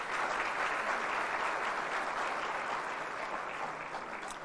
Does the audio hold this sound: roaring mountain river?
no